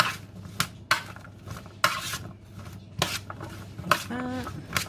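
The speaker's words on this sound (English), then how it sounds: "Give them a bit of a" Seasoned fries are tossed in a metal tray or pan, giving repeated scraping, rattling clatters at irregular intervals, close and moderately loud, with a brief whistle-like tone near the end.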